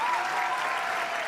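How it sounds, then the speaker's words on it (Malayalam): Audience at the AMMA Kudumba Sangamam 2025 stage show applauds Vinod Kovoor with a dense, steady burst of clapping, loud and uninterrupted for the whole moment. "വിനോദ് കോവൂറിന് വേണ്ടിയിട്ട് നിങ്ങളുടെ കയ്യടി എവിടെ?"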